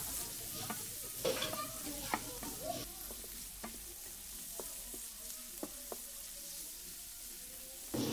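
Chopped carrots stir-fried in a wok for egg chowmein: steady sizzling with repeated scraping strokes of a spatula, close and moderately quiet.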